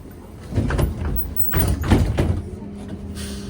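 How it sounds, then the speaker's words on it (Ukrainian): Doors of a BKM-321 trolleybus in Minsk sliding shut, a pneumatic hiss and rumbling thuds for a couple of seconds inside the cabin, over low vehicle hum. "Осторожно, двери зачиняются."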